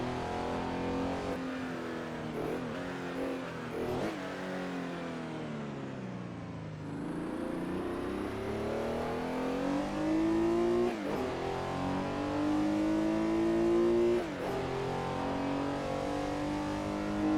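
A Porsche 911 engine on the 1968 Sauerlandring track in Assetto Corsa, loud and steady, rising and falling through moderate revs with brief dips at gear changes and no voices.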